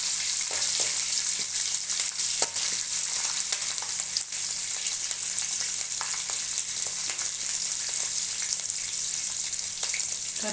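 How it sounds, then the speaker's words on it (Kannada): Green chillies frying in hot oil for fried rice give a steady, dense sizzle that runs unbroken throughout, close and fairly loud, with faint stirring ticks scattered through it. "ಈಗ ಸ್ವಲ್ಪ ಫ್ರೈ ಆಗಲಿ ಇದು. ಇವಾಗ ಹಸಿರು ಮೆಣಸಿನ್ಕಾಯಿ ಹಾಕ್ತಾಯಿದ್ದೀನಿ."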